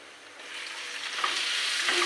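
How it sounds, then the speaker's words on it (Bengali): Chopped onion dropped into hot oil among taro leaves, sizzling steadily and growing louder, with a few sharp pops near the end; close and alone, no talk. "এবার পেঁয়াজটা দিয়ে দিচ্ছি"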